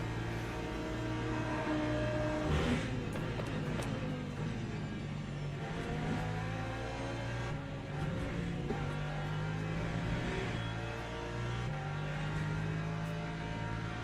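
Race car engines in Le Mans Ultimate, including an LMP3 prototype at Paul Ricard, humming and revving in the background at moderate volume, with gear changes and passing cars, no talk.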